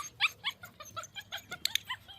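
A puppy at home, during a recall training session, gives a quick series of high yips and short barks, fairly close but faint, with no talking.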